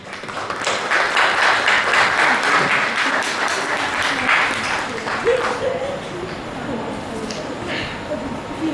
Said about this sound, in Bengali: সবাই ধরে হাত তালি দেবেন।